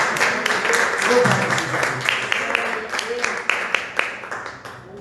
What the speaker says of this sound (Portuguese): uma salva de palmas a Deus